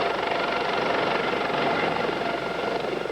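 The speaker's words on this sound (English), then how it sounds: "Pam was flown by Maryland State Police helicopter to the neonatal intensive care unit of Prince George's Hospital Center" A Maryland State Police helicopter flies steadily nearby, its broad rotor and engine roar loud and continuous throughout with no pauses.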